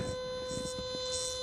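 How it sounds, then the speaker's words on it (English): A steady buzzing vibrate tone from a dog training e-collar, played through a small audio box beneath a tripod, holds constant and fairly loud for the whole moment. "Like vibrate sounds like this."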